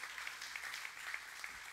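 An audience claps for a woman being invited onto a stage at a talk, a steady, moderately quiet patter of applause that holds through the whole stretch with no voices.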